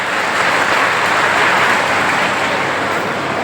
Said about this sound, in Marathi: पुन्हा एकदा बाल कलाकार यांचे सर्वांनी टाळ्या वाजवून जोरात स्वागत करायचे